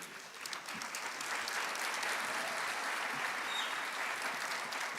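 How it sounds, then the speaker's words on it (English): A conference audience at an opening ceremony applauds an academic orchestra from the University of Warmia and Mazury in Olsztyn, a soft, distant, even roar of many hands clapping that holds steady throughout. "Huge applause to Academic Orchestra of University of Warmia and Mazury in Olsztyn."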